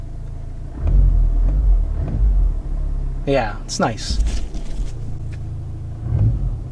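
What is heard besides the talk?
car exhaust rumble at idle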